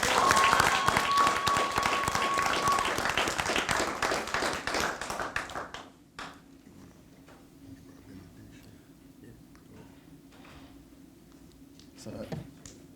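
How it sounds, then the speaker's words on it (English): An audience at a cadet program graduation ceremony applauds steadily for about six seconds, then the clapping fades into a quiet room with scattered small taps and a few late claps. "Can you all give them a round of applause again?"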